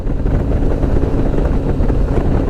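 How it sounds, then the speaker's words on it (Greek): Gusty outdoor wind near Vytina in the Greek mountains buffets the microphone, a loud, low, rumbling roar that swells and dips continuously with no speech. "γιατί φυσάει λίγο σήμερα"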